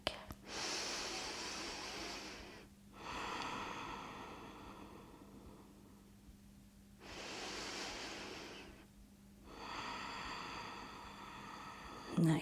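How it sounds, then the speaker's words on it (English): During a beginner yoga warm-up, two long, deep breaths are drawn close to the mic, each a broad airy inhale and exhale separated by brief pauses, heard alone over a faint steady hum. "take 2 big deep breaths here"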